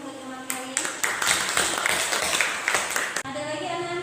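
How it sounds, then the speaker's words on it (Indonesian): Classroom of students applauding a classmate, a burst of scattered hand clapping lasting a few seconds that breaks off sharply, with voices and background chatter underneath. "Bisa tepuk tangan untuk teman kalian."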